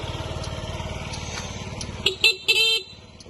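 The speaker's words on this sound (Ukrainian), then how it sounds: "звуковий сигнал теж працює" A Yamaha Jog SA 55 fuel-injected scooter idles with a steady putter, then a few short, bright horn beeps sound close by, one after another.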